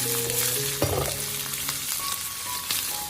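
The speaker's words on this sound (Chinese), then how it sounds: "炒香以后，再把白菜帮加进来，翻炒均匀。" Napa cabbage stalks being stir-fried in a hot wok, a close crackling sizzle with bursts of louder spattering and scraping as they are tossed, no talking.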